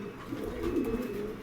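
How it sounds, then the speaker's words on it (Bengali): A male pigeon of a foreign breed, offered for sale at a pigeon market, coos steadily and fairly close, with a low rolling murmur that swells and fades over a faint background. "দেখেন অনেক চমৎকার এই নর কবুতরটা মাত্র 1000 টাকার বিনিময়ে কিন্তু পেয়ে যাবেন"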